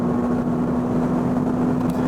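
Steady, loud engine drone with a strong constant hum from inside a 2021 Porsche Panamera 4 Executive long-wheelbase, 336 horsepower, accelerating on the road, an even, unbroken roar throughout.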